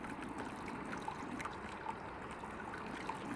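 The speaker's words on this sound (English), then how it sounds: "We're sparging." Hot water at 76C is sparged through a grain mash for a big IPA, making a soft, steady trickle and faint gurgle.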